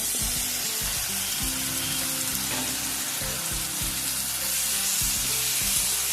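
Chopped tomato, chilli and onion sauté in a pan for Kerala fish curry, with a loud, steady close sizzle and intermittent scraping stir strokes layered over it.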